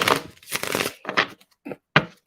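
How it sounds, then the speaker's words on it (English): A deck of tarot cards is shuffled by hand in several quick, close riffling bursts separated by brief silences, the last two short and sharp. "Let me get one more shuffle."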